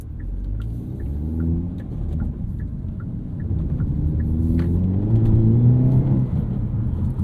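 A 2024 Hyundai Elantra N with a six-speed manual pulls through a morning commute, its engine droning steadily and rising in pitch as it accelerates under a constant road rumble, with no talk over it.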